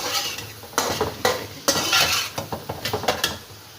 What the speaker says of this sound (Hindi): अब इसकी अच्छी तरह भुनाई होगी जी